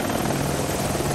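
A helicopter in the video game Spyhunter: Nowhere to Run gives off a steady, loud rotor-and-engine roar, continuous throughout with no voices.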